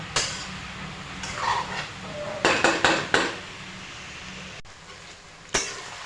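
A metal lid is set on a cooking pan of simmering bottle gourd with fish head, giving a few sharp clanks and rattles close by, a short cluster of knocks in the middle and a final clink after a quieter pause.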